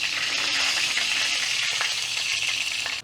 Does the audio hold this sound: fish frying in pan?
yes